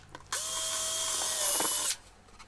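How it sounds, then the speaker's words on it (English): A power drill whines steadily at high pitch for about a second and a half, close up, drilling screw holes in a shelf, then winds down and stops. "Then I could drill the holes where I want to put the screws through to secure the shelf into position"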